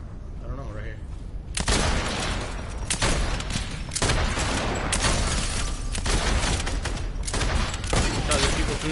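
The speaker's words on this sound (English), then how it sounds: "there's people shooting up on the side" Rapid bursts of video game gunfire crackle through a multiplayer shooter match, dense volleys of shots repeating across the stretch with players talking over the shooting.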